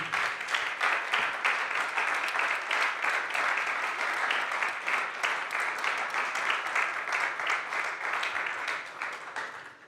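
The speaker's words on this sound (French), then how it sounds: "d'applaudir nos 4 invités." Sustained audience applause for four guests at a French conference panel on lithium-free batteries, dense and steady throughout, with no talking over it.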